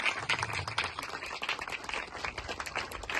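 Rapid clapping from a congregation at a Baptist church ceremony, dense, fairly quiet and continuous, with faint voices mixed in.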